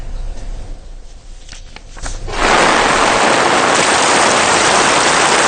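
Heavy rain pours down during flooding in the Balapitiya, Bentota and Owlana areas of Galle, Sri Lanka. It surges in abruptly after a quieter rumbling start and becomes a loud, dense, continuous roar.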